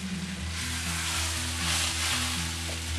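Onions caramelizing in a pan for shepherd's pie give a soft, continuous sizzle and crackle over a steady low hum, close and quiet with no talk.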